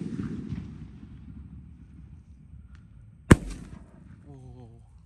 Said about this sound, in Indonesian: ini Roman Candle paling besar.